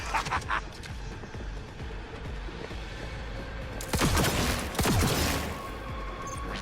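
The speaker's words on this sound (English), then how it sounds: "this is the Widowmaker" The Widowmaker precision rifle in Cyberpunk 2077, a weapon with a shotgun-like spread, fires as two sharp shots about a second apart over busy background combat noise, with faint voices in places.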